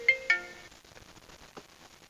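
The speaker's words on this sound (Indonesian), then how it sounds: "ada telepon" A mobile phone ringtone sounds inside a 2007 Honda Jazz VTEC automatic for an incoming call: two quick, clear ringing chimes close by, then fading into quiet.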